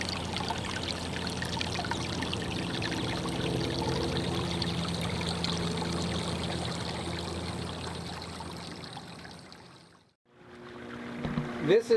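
Water rushes and splashes steadily at close range for several seconds as an irrigation ditch flows into a sprinkler pond in the Bitterroot, then cuts off briefly before the flow noise returns.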